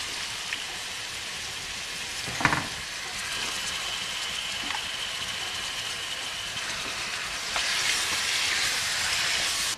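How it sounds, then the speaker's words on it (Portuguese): Pork spine (suã) sautéing with garlic in a pan gives a steady broadband sizzle throughout, with a sharp clank near the start and the frying growing louder toward the end; no one speaks. "Agora vamos colocar o suã para refogar"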